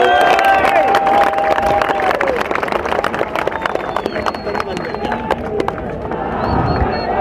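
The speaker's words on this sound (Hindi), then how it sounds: "तो एक जोरदार तालियां अपने खुद के लिए बजा दीजिएगा मेरे।" A large crowd at a political speech in Aurangabad claps and cheers loudly and densely throughout, with the applause thinning slightly partway through before swelling again.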